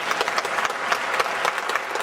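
An audience at a university lecture claps together, dense and steady applause from a sizable crowd filling the room throughout.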